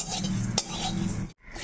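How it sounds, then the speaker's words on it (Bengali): Whole spices (cumin, fennel, fenugreek, coriander, dried red chillies and mustard seeds) are dry-roasted in an empty pan for mango pickle, giving close metallic scraping and stirring clinks of a utensil against the pan with a brief pause near the end. "শুকনো খোলায় প্রথমে এই মশলাগুলো ভেজে নেব।"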